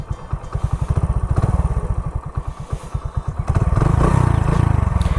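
A Hero Splendor motorcycle engine, running after a crank change, putters close by in a rapid, regular rhythm of firing pulses, then the revs rise to a louder, smoother drone near the end.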